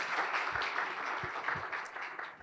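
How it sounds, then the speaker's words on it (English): Brief applause at a media studies forum for participants, a soft, fairly distant patter of clapping from a modest audience, fading at the end. "A round of applause for all of you."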